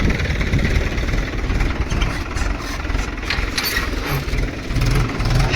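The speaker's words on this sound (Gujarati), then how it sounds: "એક ટ્રેક્ટર ઊભું છે" A steady engine idles with a low, continuous chugging rumble nearby, holding an even level throughout.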